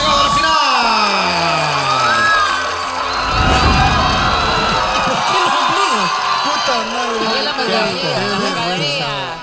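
A game show audience at the final erupts in loud cheering, whoops and shouting, dense crowd noise swelling throughout with overlapping voices and excited yells over it.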